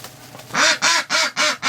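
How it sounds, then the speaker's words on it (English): Muscovy ducks give four loud, close, evenly spaced quacking calls in quick succession after a quiet start, with no voices. "Hey, all the Muscovies are over here."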